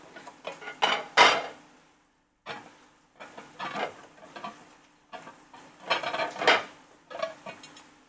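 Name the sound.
dishing out stir-fried rice onto an open plate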